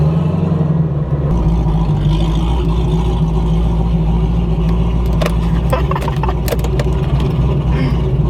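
A car with a TH400 automatic transmission is driven on the street, giving a loud, steady low engine rumble with a deep idle-like drone, and scattered clicks and taps appear near the end.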